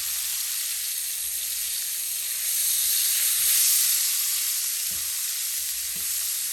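Garlic powder sizzling in a hot pan while a loaded baked potato dish is being cooked, a steady broadband hiss with a brief swell midway and a few soft clicks of stirring near the end.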